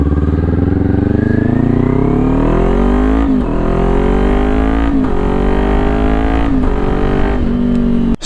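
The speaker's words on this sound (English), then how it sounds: "We can use our ears to listen to the motorcycle and shift when it gets loud." A motorcycle engine climbs steadily in pitch, breaks off briefly at each upshift and climbs again through several gears; loud, close and continuous with no talking.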